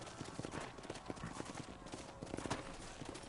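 Horse hooves clip-clopping in the video game Red Dead Redemption, a steady rhythmic trot heard at moderate distance over a busy background of game ambience, with faint voices.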